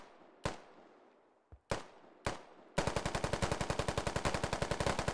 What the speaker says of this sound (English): I'll just fucking put some rounds down that way.